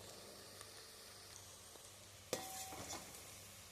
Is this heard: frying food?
yes